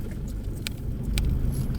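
Heavy road traffic heard from inside a vehicle, a low continuous engine and road rumble with a couple of brief sharp clicks, no talk.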